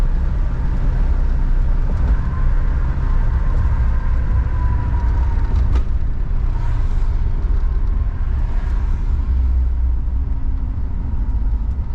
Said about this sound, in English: This car rides and drives as good as anything modern, probably better.